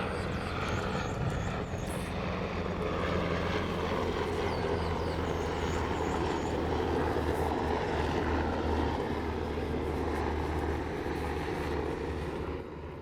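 Steady, loud engine drone of a low-flying Navy aircraft passing overhead, a continuous propeller-like rumble that barely changes over the whole stretch.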